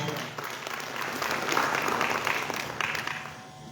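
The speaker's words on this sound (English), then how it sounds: "Can we give her another round of applause?" Applause from an audience at a government ministry's multi-stakeholder consultation, a steady wash of clapping that holds for several seconds and then tapers off slightly at the end.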